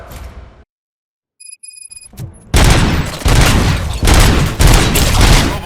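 Loud bursts of gunfire fill a firefight in the video game RoboCop: Rogue City, breaking out after a brief silence and a few electronic beeps, then continuing as dense, heavy volleys close by.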